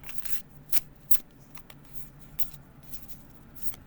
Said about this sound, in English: Or do the overhand shuffle.